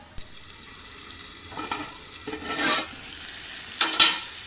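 Onion and tomato fry in a covered pan while a spatula stirs and scrapes them, giving soft sizzling and a few short scraping bursts, fairly close, with no voices.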